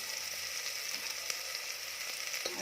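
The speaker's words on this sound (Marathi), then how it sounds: "त्यामध्ये बारीक चिरलेला कांदा घालायचा आहे कांदा छान परतवून घ्यायचा आहे" Finely chopped onion fries in hot oil in a pan, giving a steady bright sizzle throughout with a few faint stirring taps, heard close and alone without talk.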